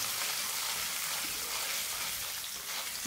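Coconut frying in a pan: a loud, dense, steady sizzle with hissing crackle, close and unbroken throughout.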